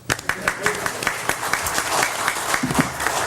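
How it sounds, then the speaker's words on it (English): A city commission meeting audience breaks into applause, a dense burst of clapping that carries on steadily for a few seconds, with voices mixed in. "You may applaud."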